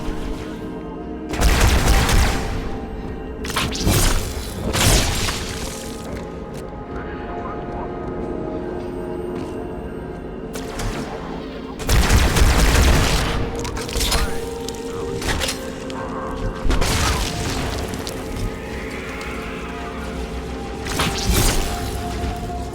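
Gunfire battle in the Halo 2 video game: bursts of rapid shooting and sharp cracks repeat every few seconds, loud and close, over a steady background of game noise with occasional whooshes.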